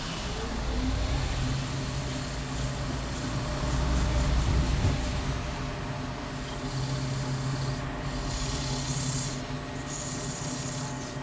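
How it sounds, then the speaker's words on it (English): A continuous rubbing, rasping sound of a spinning off-centre turned candlestick being polished on a lathe, with a steady motor hum throughout and no pauses. "First of all, I'll just put a bit of polish on."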